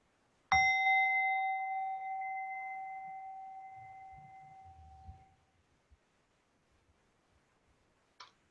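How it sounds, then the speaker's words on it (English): A meditation gong is struck once, ringing out bright and clear in a quiet room and slowly fading over about five seconds, followed by a faint tap. "with the sound of the gong, you can bring your mind back to the moment"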